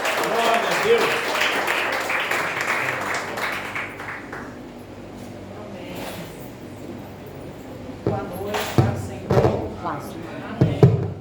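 A church congregation bursts into dense applause that rings for about four seconds before fading, followed by a person talking with scattered knocks and bumps in the room.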